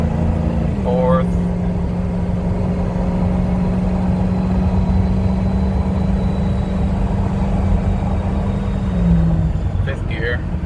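A 2007 Ford F-250 pickup with a 6.0L Powerstroke diesel and a six-speed gearbox pulls hard at full throttle, a loud steady engine drone with a brief pitch drop at a shift, heard from inside the cab.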